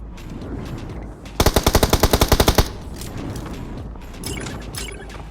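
A rapid burst of automatic gunfire from the mobile battle royale game BGMI (PUBG Mobile), about a dozen sharp evenly spaced shots lasting just over a second, set against softer game ambience.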